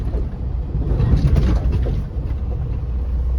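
A semi truck with its trailer brakes released rocks twice against its set parking brakes, a deep engine rumble with a brief low surge and creak of strain, close by and steady.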